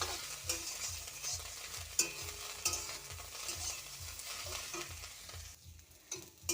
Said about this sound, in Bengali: এবার লাড়াচাড়া করে ভাজবো